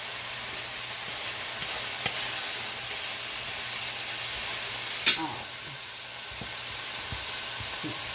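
Apples frying in a pan on a home stove give a steady broadband sizzle throughout, with a couple of sharp clinks of utensil against the pan and faint low hum underneath.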